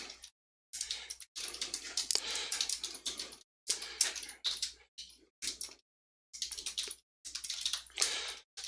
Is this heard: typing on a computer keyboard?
yes